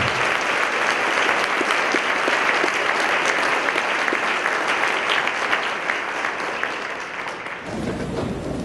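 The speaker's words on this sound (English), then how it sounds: "let's hear now a nice round of applause for Mary Hood" An awards-ceremony audience claps for a winner: sustained, dense applause from a large crowd in a hall, holding steady for several seconds before breaking off abruptly near the end, with quieter room murmur after.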